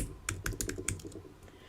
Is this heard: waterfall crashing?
no